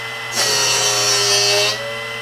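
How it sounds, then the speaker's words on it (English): A Drill Doctor drill bit sharpener switches on and hums, and a steady grinding whine rises as a bit is pressed in and sharpened for about two seconds before easing back to the motor hum. "Now we will simply turn the unit on, place it in,"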